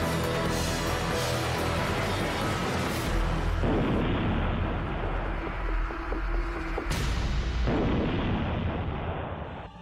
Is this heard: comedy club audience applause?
no